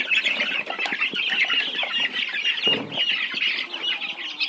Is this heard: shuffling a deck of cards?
no